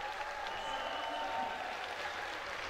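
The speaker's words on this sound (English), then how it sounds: "The cheer went up." Faint, distant crowd at a powerlifting competition at the World Games, with a steady wash of applause and cheering and murmured voices underneath.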